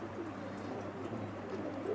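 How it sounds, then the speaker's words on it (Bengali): Pigeons of an old Khulna breed coo in a soft, continuous low murmur, several birds close by with overlapping rolling calls throughout. "আমাদের খুলনার পুরাতন জাতের কবুতর"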